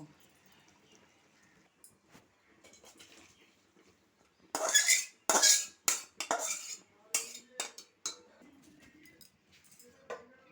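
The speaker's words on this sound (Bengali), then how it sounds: "এখন আবার আমি কড়াইটা বসিয়ে দিয়েছি" A cooking pot of boiled watermelon rind is lifted off a stove and a wok set down in its place: after a quiet start, a cluster of loud metallic clanks and knocks sounds close by, then fades to lighter taps.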